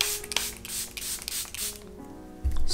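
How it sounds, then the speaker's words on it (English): Charlotte Tilbury Airbrush Setting Spray misted from a pump bottle onto a face during a makeup routine, a few soft hissing spritzes heard close up with faint handling noise. "I'm going to spray on Charlotte Tilbury Airbrush Setting Spray."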